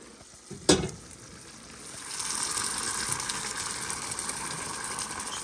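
Chicken paprikas wings being basted in a pan, a sharp clatter near the start giving way to a steady, rising sizzle of frying liquid that holds for several seconds.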